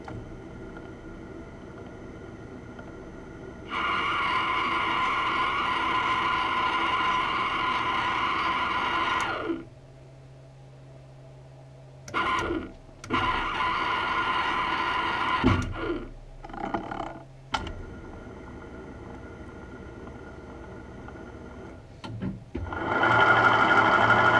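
A lathe cuts an internal thread on a pump fitting, running in steady whirring stretches that stop abruptly, then restart in short bursts and end with a final run, loud and close, with no talk.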